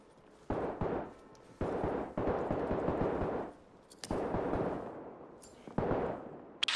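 A frag grenade detonates in the military shooter Arma Reforger amid a burst of loud, heavy gunfire and blasts, several booming impacts coming in chunks with brief gaps between them.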